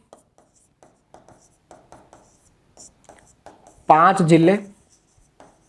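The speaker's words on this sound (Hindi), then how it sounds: "तो मैं यहाँ लिख देता हूँ राजस्थान के" Marker strokes on a whiteboard, soft scratchy squeaks that come and go while someone speaks close by, with a louder spoken burst near the end.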